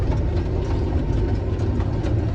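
A John Deere 7820 tractor engine drones low and steady while pulling a disk across a field, a heavy continuous rumble with faint clattering over it.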